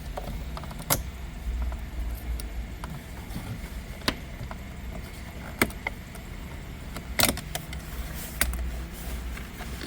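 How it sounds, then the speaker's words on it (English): Silver plastic trim is pried off around the radio on a 2013 Kia Optima dash, giving scattered sharp clicks and snaps at irregular intervals over a low background rumble. "Carefully pry that entire trim out"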